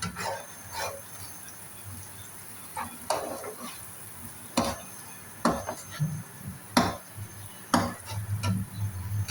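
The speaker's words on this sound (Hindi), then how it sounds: "अब मैं इसमें चम्मच हिलाऊंगी।" A spoon scrapes and stirs crushed red chilli and turmeric in a hot pan, with several sharp clinks against the metal over a steady low sizzle. Okra is the dish being cooked.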